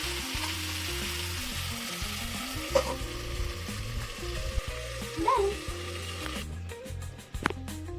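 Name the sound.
chicken curry cooking in a covered pan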